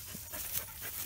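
A dog pants quickly and whimpers softly, close by, outdoors beside a crop field during a mid-July walk. The panting comes in short, breathy bursts with no voices.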